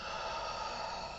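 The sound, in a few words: breathing out during a breathing practice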